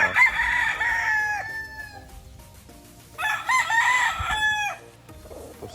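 Gamefowl stags at a game farm crow twice nearby, each long cock-a-doodle-doo loud and clear, with quieter clucking between the calls.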